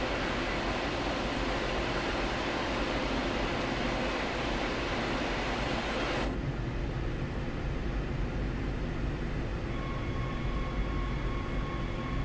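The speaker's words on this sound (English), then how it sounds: "Before traveling too far, let's bring the train to a halt." A steady rumbling video game train engine with continuous low drone as the train brakes to a halt; about halfway through the high hiss drops away, leaving a quieter rumble and a faint tone.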